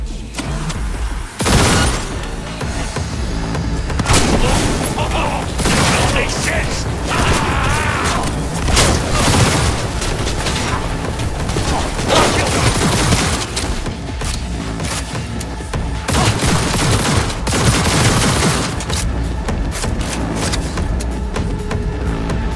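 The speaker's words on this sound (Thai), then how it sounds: "เดี๋ยวไปดูผลทดสอบการยิงแต่ละแบบกันบ้างว่าจะเป็นยังไง" Iconic weapons firing during a gunfire test in the video game Cyberpunk 2077: loud, dense bursts of shots with mechanical clatter and booming impacts, continuing almost without pause and no talking.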